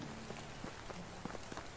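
Soft, steady rain in Medieval Dynasty patters with scattered droplet ticks over a constant hiss, faint and even throughout.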